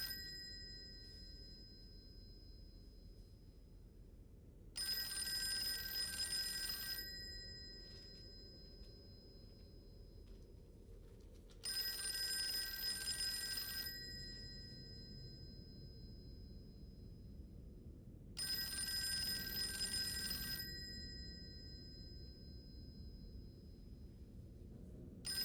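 An old-fashioned bell telephone rings inside the Call of Cthulhu video game, its bright ringing arriving in three separate bursts about two seconds long, set over a low, murky ambient rumble.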